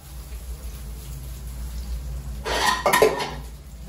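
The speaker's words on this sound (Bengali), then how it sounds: "ভাতের হাঁড়িটা পুরো ধরে উল্টিয়ে দিলাম" Cooked rice is tipped out of a pot into a pan, giving a short, clattering scrape and thump of metal cookware after a quiet stretch of low kitchen hum.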